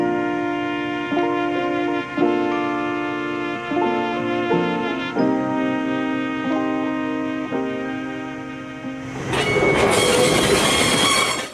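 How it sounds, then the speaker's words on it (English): An EMD SW9 diesel switcher locomotive on a logging railroad moves a train of empty cars, with a steady engine drone and sustained whistle-like tones, ending in a louder burst of screeching wheels and clanking cars. "SW9 101 prepares another train of empties for the run up to the camp at Soap Creek."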